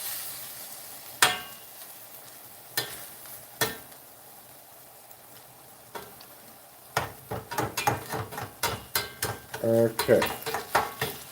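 Garlic spread around a hot pan, with scattered scrapes and clinks of a utensil against the pan that grow into a rapid run of strokes over a faint sizzle, with a brief spoken word.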